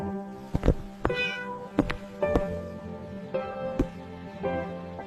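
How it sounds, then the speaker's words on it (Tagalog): A cat meows repeatedly indoors, several short clear calls spread across the stretch with household background sound between them. "Napakaamo naman ang pusang ito"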